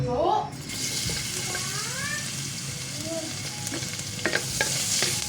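Garlic and pork sautéed and stirred in a pan, giving a continuous loud sizzle with scattered scraping clinks near the end, while a voice speaks briefly over it.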